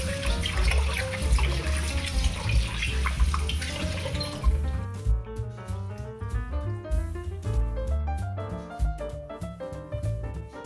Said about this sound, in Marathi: कलेजी अशी साफ धुवून घ्यायची.